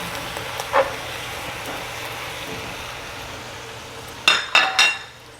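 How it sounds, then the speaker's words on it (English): A spoon stirs choucroute garnie in a pot, with scraping and a few clinks of metal against the pot near the end over a quiet kitchen background. "Give it a stir."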